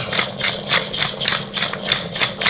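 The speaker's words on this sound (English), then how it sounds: "This grinder's not very good," A hand pepper grinder cracks peppercorns in repeated gritty bursts, about eight quick twists in a steady rhythm, close and fairly loud with no talking.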